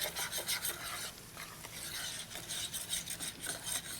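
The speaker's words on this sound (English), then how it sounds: "every place I see that brown fond, I'm just going to scrape it clean" A utensil scrapes and rasps across the bottom of a pan to loosen browned fond, with red wine added for a bean bolognese, steady rough scraping strokes up close, no voices.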